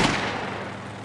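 A gunshot fired during a tense confrontation in a Northeastern Chinese comedy film, a broad loud burst with a booming decay that fades over about a second, with no talk.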